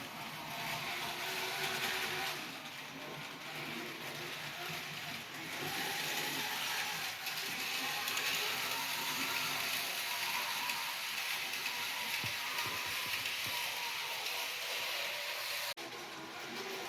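Bachmann Graham Farish N gauge model train pulling six coaches around a layout, a faint steady mechanical whirr and clicking running continuously at low level with no talking.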